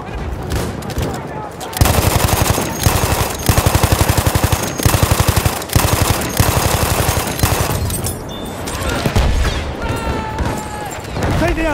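Loud, rapid bursts of machine gun fire in Battlefield 1, several rattling volleys at close range with booms and battle noise, while shouting voices are heard in the game.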